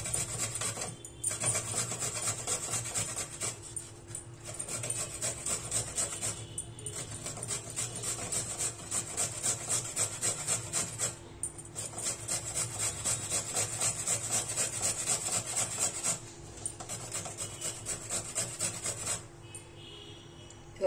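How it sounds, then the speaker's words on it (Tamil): Peeled carrots rubbed by hand over a grater for carrot halwa, giving close, steady rasping strokes in repeated runs separated by brief pauses. "இப்போ வந்து இதில் வந்து நல்லா துருவி எடுத்துக்கணும் எல்லா கேரட்டையும்"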